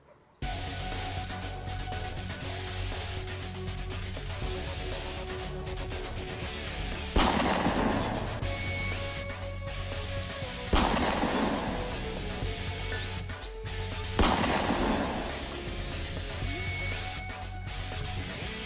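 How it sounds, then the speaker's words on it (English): Gunfire sound effect: three heavy, booming shots spaced a few seconds apart, each with a long rumbling decay, over a steady background hum, close and loud, without talk. "I think someone's shooting at us, boss."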